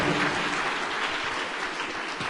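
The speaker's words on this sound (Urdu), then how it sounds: "ان کے لیے تالیاں ہونی چاہیے سر سعید احمد کے لیے" Applause from an audience at a children's speech competition, honoring Sir Saeed Ahmed: a steady, dense clatter of many hands clapping, loud and continuous throughout.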